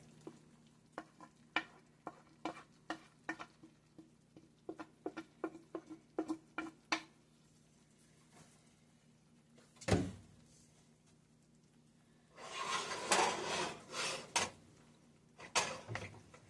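Beef returned to a pot of pot roast sauce reduced by half and stirred in, a run of sharp close clacks and wet scrapes, then a louder burst of sizzling patter toward the end, with no talking.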